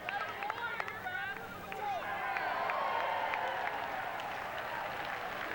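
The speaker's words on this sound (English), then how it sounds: "Nice catch in the Carrollton crowd. Yeah, fans like it." A crowd at a high school baseball championship game cheers and applauds a catch made in the stands, a swelling roar of distant voices with scattered clapping, heard under a commentator's talk.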